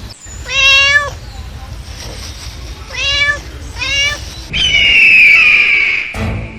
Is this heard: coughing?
no